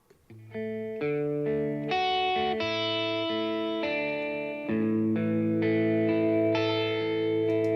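Sustained chords from an electric instrument run through a spring reverb and effects, panned hard left, with a steady loud wash of sustained harmonics and a brief dip before the final chord.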